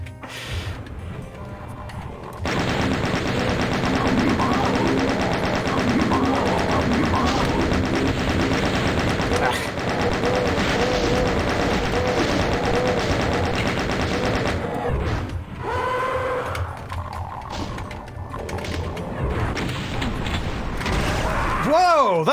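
A weapon in a video game lets loose a long, loud burst of rapid automatic fire lasting over ten seconds, then cuts off into quieter mechanical clatter and shifting sounds.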